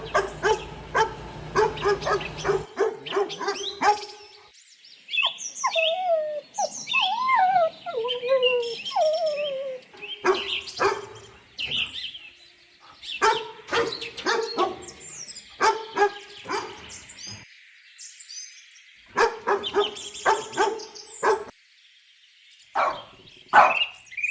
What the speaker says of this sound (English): Con chó. Dog. Dog.